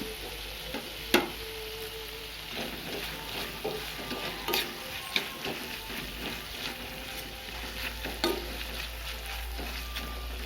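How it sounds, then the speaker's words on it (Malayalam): Crushed ginger and garlic fry with tomato and onion in a pan for a jackfruit seed cutlet filling, stirred continuously with soft scraping and spoon taps over a constant low hiss of frying. "ഇനി ഇതിലേക്ക് ഇഞ്ചി വെളുത്തുള്ളി ചതച്ചതും ഇട്ട് കൊടുക്കുക നന്നായിട്ട് കലക്കി കൊടുത്തതിന് ശേഷം"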